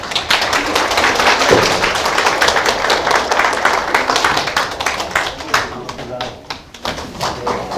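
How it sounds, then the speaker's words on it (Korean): Steady audience applause fills an indoor hall as a director is welcomed to the podium at a Gyeonggi Province care-integration training session, loud and continuous with dense clapping throughout. "많은 박수로 우리 국장님 모시겠습니다."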